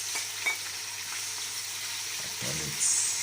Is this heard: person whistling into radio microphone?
no